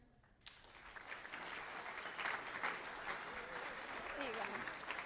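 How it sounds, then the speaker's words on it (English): Audience applause at a school Constitution Day assembly greets an election official as she steps up to speak, a dense sustained clapping that starts abruptly and stays steady, with a brief voice rising over it near the end. "please give her a round of applause and welcome her"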